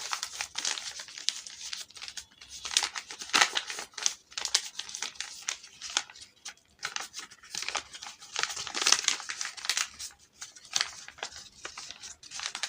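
A sheet of paper is creased and folded over and over into a small paper boat, giving crisp crinkles and rustles in irregular bursts, close up and fairly quiet with no talking.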